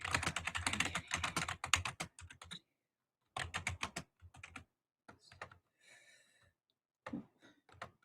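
Someone types on a computer keyboard, close and clear, in quick bursts of keystrokes broken by short pauses and a longer silent gap, then slower scattered taps toward the end.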